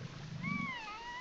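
A snow leopard gives a soft meow-like call instead of a roar, one brief drawn-out cry that rises and then slides down, heard faint against a low background hum.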